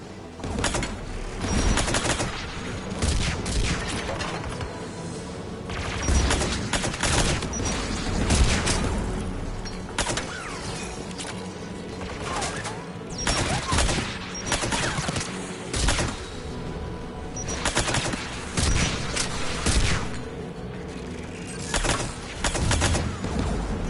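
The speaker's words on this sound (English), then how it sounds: "AA guns ahead of us." Anti-aircraft guns in Mass Effect 3 fire in repeated heavy bursts, loud rattling volleys and booms recurring through a continuous din of battle noise, with no talk.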